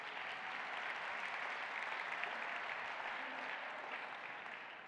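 Audience applause at a keynote for a fermentation-industry conference, a steady dense wash of clapping hands filling the room, fairly even in loudness throughout with no voices on top.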